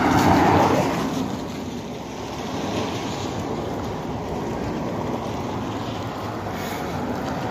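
Heavy rain pours down in Shahrituz, a dense constant roar of downpour with low rumbling swells like thunder, loud and unbroken throughout.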